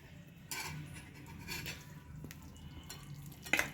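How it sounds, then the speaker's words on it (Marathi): Spiced vegetable masala being stirred into sautéed fresh turmeric in a pan, with soft scraping and clinks of a spoon against the metal pan over a faint low sizzle, one sharper clatter near the end. "अशा पद्धतीनं सर्व हे आता आपण हळदीमध्ये घालून मिक्स करून घेऊया"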